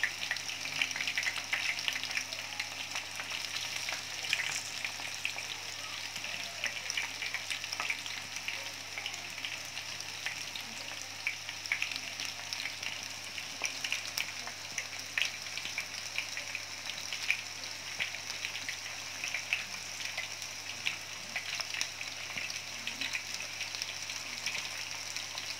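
Chicken pieces deep-frying in hot oil, KFC-style, give a steady, dense crackling sizzle that runs unbroken at an even level from start to finish, with no voices over it.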